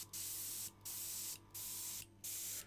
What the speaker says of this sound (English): I'm spraying through on my hand because of the mixer paint